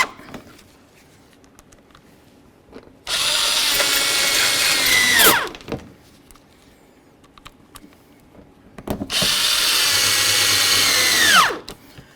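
Two sustained bursts of a power drill driving screws back in on a 2007–2014 Ford Edge front parking light assembly, each running a couple of seconds and winding down at the end, close and loud with quiet between.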